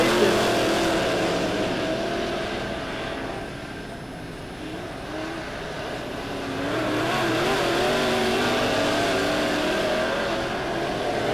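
Dirt track race cars at Lebanon Midway Speedway roar continuously around the oval, a dense, distant engine drone that swells and dips as the pack passes, with no clear talk.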